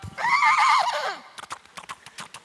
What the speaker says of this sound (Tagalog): Kinuha niya ang kanyang kabayo at